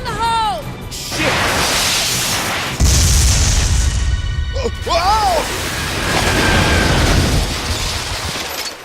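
A grenade blast in the video game Binary Domain, a loud booming crash with a deep rumbling tail amid gunfire and combat noise, while voices shout over the chaos.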